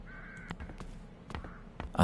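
Crows caw in the fantasy adventure game The Dark Eye: Chains of Satinav, several short harsh calls spaced irregularly and fairly close over quiet background ambience, with no talking.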